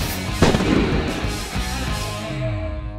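.357 Magnum revolver fired at armored glass: a single loud sharp report near the start with a ringing, reverberant decay trailing off afterward.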